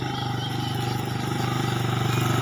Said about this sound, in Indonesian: Ada yang motor lewat nih.